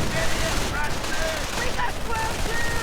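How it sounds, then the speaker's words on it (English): MG42 machine gun bursts in a World War II strategy video game, heard from a slight distance amid dense battle noise, with a commentator talking over the gunfire. "MG42 opening up from a slight distance away"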